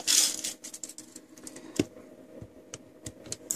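Metal tape measure pulled out from its case, heard as a quick run of small rattling clicks and ticks, close and fairly quiet, with a sharper snap midway.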